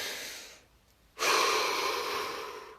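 A single deep breath drawn during a guided relaxation session: a quieter exhale tapers off, then after a short pause a loud, sustained breathy inhale rushes in close to the mic and holds to the end.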